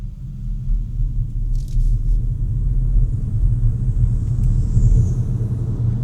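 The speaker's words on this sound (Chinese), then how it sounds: "我们来看看它的起步加速" An Xpeng G6 electric car pulls away from a standstill on a Malaysian road. A steady low cabin rumble and road drone swell gently as it gains speed, with no talking.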